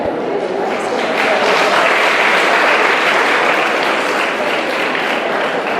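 Steady, loud applause fills a university hall where graduate, postgraduate and PhD students and staff clap together, dense and unbroken for several seconds.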